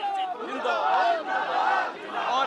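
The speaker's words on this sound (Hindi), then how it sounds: "कांग्रेस पार्टी मुर्दाबाद के नारे लगाए जा रहे हैं" Many voices chant together in loud, rising and falling waves, an outdoor crowd shouting slogans in rhythmic bursts.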